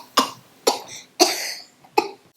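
Four sharp, uncovered coughs ring out close by, spaced about half a second apart. Each is a loud burst that trails off quickly, with nothing else heard.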